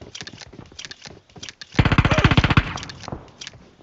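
Rapid automatic gunfire in PUBG Mobile aimed at a bot: a dense burst of about a dozen sharp shots lasting under a second, loud and close, set among lighter game noise, clicks and scattered scattered shots before and after.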